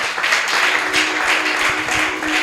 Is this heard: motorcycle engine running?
no